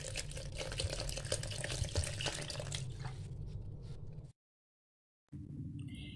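Water runs and splashes steadily into gram flour batter for a few seconds, then stops abruptly; a brief quieter stretch of room sound follows.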